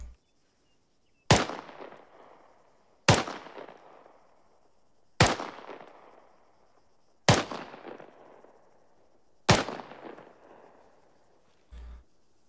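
An M4 rifle firing single rounds at a sustained rate: five sharp, loud shots spaced about two seconds apart, each trailing off in a short echo, with a faint thump at the very end.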